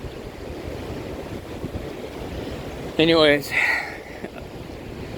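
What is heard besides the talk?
waves washing in through rocks on Lake Michigan shore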